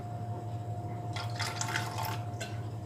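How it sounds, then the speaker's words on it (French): Water poured into a pot of apricot jam to thin it gives a faint, brief splash of liquid over a steady low background hum, heard alone without talking. "on mettra un peu d'eau pour diluer un peu la confiture"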